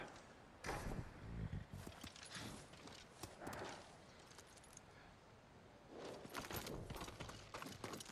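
Rhythmic clip-clop of horse hooves walking in the video game Ghost of Tsushima, moderately close, with soft game background ambience and scattered clatter; no talking.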